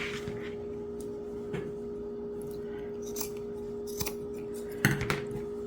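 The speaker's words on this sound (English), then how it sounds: "I'm just going to cut right along where the sleeve is attached." Scissors snipping through a cotton t-shirt, cutting along the seam where the sleeve joins the body, with sparse, quiet cuts and rustles over a steady faint hum, ending in a sharper pair of snips.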